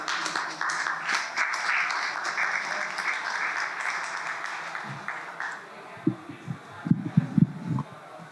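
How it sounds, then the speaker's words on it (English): An audience applauds as a speaker is welcomed at a tech talk, sustained clapping that tapers off and gives way to scattered thumps and rustling near the end. "So please come take your seats and give a round of applause to Brian."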